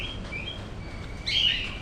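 A parrot in a fort aviary at Karnala during the monsoon lets out one short, loud screech near the end, standing out against a quiet, low outdoor background.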